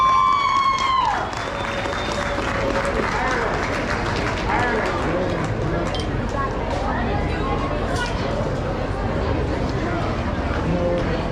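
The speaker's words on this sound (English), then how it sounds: "Let's give him a big round of applause." Applause from the crowd at a livestock show after a 4-H market hog class, broad sustained clapping that runs loud and steady throughout, with an announcer's voice over it at the start.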